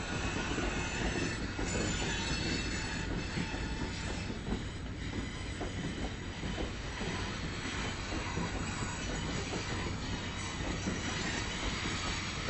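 A heavy freight train of the Copper Basin Railway, its heavy-duty cars carrying copper ore from a mine, rolls steadily past nearby with continuous rumbling rail noise and screeching wheel squeal throughout, with no talk.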